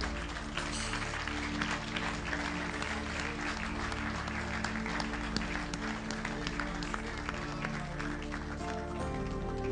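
A church congregation at a prophetic service claps and cheers in sustained applause, steady and moderately distant, with a continuous musical drone beneath and no clear speech.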